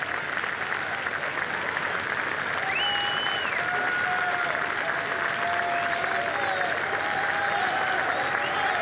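A large golf gallery at the 2005 Ford Championship at Doral applauds Tiger Woods as he walks up the 18th, sustained steady clapping from a big crowd with faint whistles and calls ringing through it.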